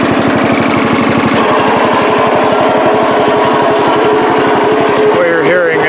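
Craftsman lawn mower that sat for eight years, running with dry blowing exhaust, a loud rapid pulsing chug that stays steady and close, with a faint voice near the end.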